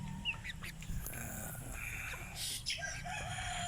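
Rhode Island Red chickens in a backyard pen, with a rooster crowing and scattered clucks. The sounds are faint and somewhat distant over a quiet background.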